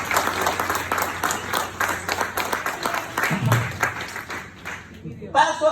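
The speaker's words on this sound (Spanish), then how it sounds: "Denle un aplauso al Señor." A church congregation claps together, with rhythmic, fairly distinct beats that fade toward the end, while a voice talks over part of it.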